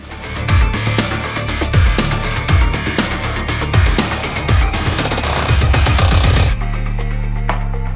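Rapid gunshots ring out at an animal on a game reserve, a series of loud close reports with echoing tails over about six seconds, then a sudden cut to quieter ambience.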